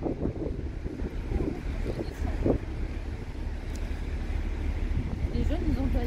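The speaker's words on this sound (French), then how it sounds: "il y a tellement du vent qu'on voit le poteau bouger" Strong wind blows outdoors near the sea on a crossing from Greece to Italy, a loud steady rumbling buffet against the microphone, with voices talking faintly underneath.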